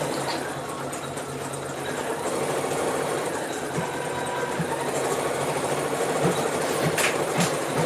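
An embroidery machine stitches a clutch piece held in the hoop, giving a steady mechanical whirring hum with a faint rhythmic needle patter, continuous and fairly close throughout.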